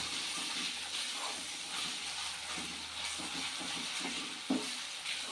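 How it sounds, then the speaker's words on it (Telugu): Onions frying in oil for a cashew chicken curry give off a steady, close sizzle and hiss, with faint stirring scrapes and a soft knock near the end. "ఉల్లిగడ్డలు ఇట్లా ఎర్రగా వేగాలండి."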